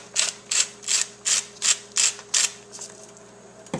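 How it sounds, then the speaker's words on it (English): A whisk beats cornmeal into milk and stock in a pot, giving eight quick, evenly spaced scraping strokes close up before stopping, with no talk. "And just whisk this in."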